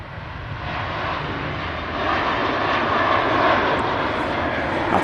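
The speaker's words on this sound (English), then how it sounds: "There's a Ryanair rolling down the runway." A Ryanair airliner rolls down the runway at Manchester Airport with a loud, sustained engine roar that builds slightly as it goes.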